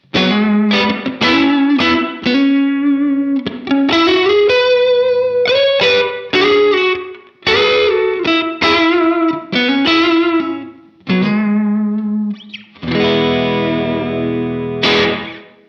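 An electric guitar plays a melodic line through a Strymon Cloudburst ambient reverb pedal set for a smaller sound, notes smeared with modulation and wash, ending in a strummed chord that rings out.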